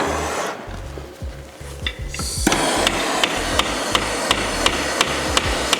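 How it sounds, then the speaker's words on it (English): Sharp metallic hammer taps on parts of a 1973 Suzuki TS185 motorcycle ring out in a steady series, preceded by rapid clattering strikes and scraping, close and loud. "let me get the hammer. Give them a couple of taps before you twist them."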